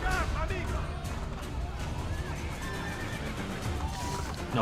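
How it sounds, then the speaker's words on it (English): A horse whinnies in the video game Assassin's Creed Brotherhood, a loud neigh over clip-clopping hooves and game noise, with players talking excitedly over it. "He's on a horse."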